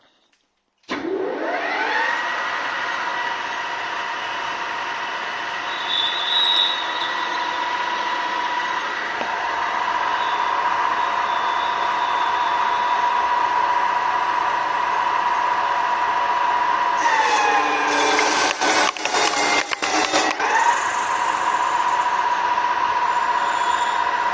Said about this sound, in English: let's turn it on and take a 24 millimeter cut